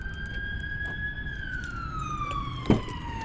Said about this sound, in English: There's a lot of sirens going off today.